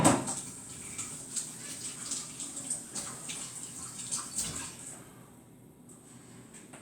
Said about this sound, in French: On va se laver les mains.